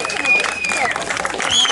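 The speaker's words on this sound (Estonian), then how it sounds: "Aplaus kõigepealt endatele." Crowd applause at the Kabli summer days gathering of furniture makers, a steady patter of clapping from many hands with mixed voices in the crowd throughout.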